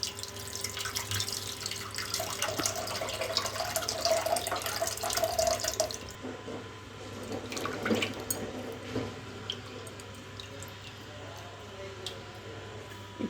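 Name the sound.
pouring tamarind extract into sambar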